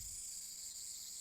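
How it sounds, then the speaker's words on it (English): Cicadas chirp in a steady, high, faint drone, a continuous insect buzz with no pauses and no voices over it. "The only sound is the chirping of cicadas."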